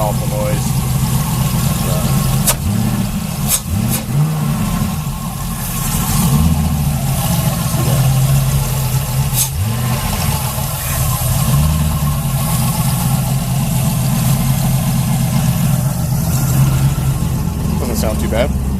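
A cold junkyard Chevrolet Camaro engine idles steadily after a fresh start, loud and close with a constant low rumble and slight fluctuations, while someone talks over it.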